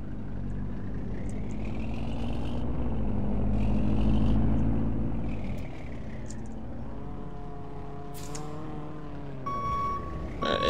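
A fire truck in the Fire Engine Simulator game reverses with its engine rumbling and swelling, then rhythmic high reversing beeps start near the end, loud and close with no speech.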